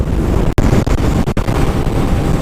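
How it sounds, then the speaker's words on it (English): Strong wind buffeting a motorcyclist's microphone outdoors, a steady loud low rumble with a few brief dropouts, no voices. "the wind is like freaking high"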